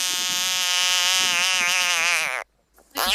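A large, angry frog caught by the Little Salmon gives a long, loud, buzzing distress call, then falls quiet before a short burst resumes.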